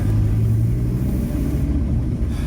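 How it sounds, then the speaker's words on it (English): A Citroën C5 car passes at Newbridge, Edinburgh, as a steady, loud low engine rumble and road roar lasting a couple of seconds. "I like that Citroën C5."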